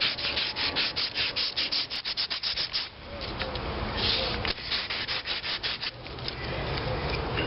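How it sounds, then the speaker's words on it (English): Metal on an old McCormick-Deering engine is sanded by hand with 80 grit emery cloth: close, rapid, rhythmic scraping strokes that settle into a steadier rasping rub. "when you get 80 grit emery cloth onto something, you need to take off"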